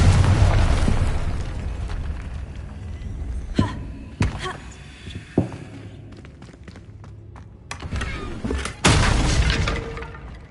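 A Confringo spell blasts in Hogwarts Legacy, with a loud booming burst at the start followed by several sharp cracking impacts and shattering debris across the scene.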